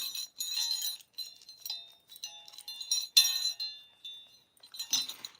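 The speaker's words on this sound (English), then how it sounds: "What do you think of these bells?" Small decorative bells for a Christmas stocking door swag jingle and tinkle in bright, irregular bursts up close, with short pauses between shakes.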